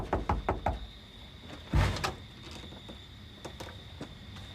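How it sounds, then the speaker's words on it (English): Police officers pound on the front door of a house, with a quick burst of heavy knocks followed by a single loud thud and a few fainter knocks afterward. "several police units and uniformed officers were pounding on the front door of the man's house"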